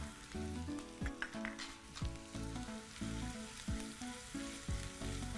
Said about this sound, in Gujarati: ડુંગળી સરસ સંતળાઈ ગઈ છે. હવે તેમાં 1 ચમચી ચણાનો લોટ લઈએ છે.